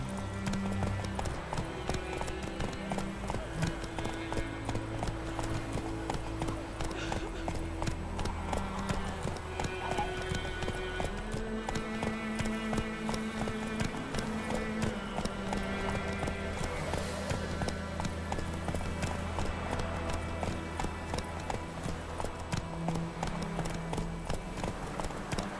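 Roach, a horse in The Witcher 3, gallops with a continuous rapid clip-clop of hooves over a game music bed, fairly quiet and steady throughout.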